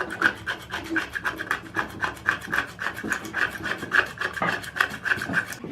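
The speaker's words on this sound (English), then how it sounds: "take a scraper and I'm just going to try to see what I can scrape off of there" A metal scraper rasps rhythmically over an old Ohio Tool Co hand plane, stripping off hardened sap-like residue in quick repeated strokes, close and fairly loud with no talking.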